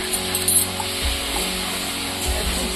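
Vegetables frying in a pan in a home kitchen: a short, fairly loud sizzle with a couple of low thumps and a light metallic clink of a utensil.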